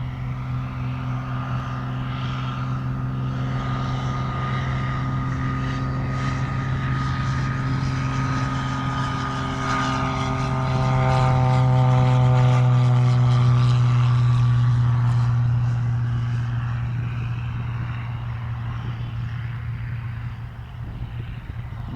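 A propeller airplane takes off from runway 27 at Albi airport, its engine droning steadily and growing louder to a peak as it passes near before fading slightly, heard alone without talk.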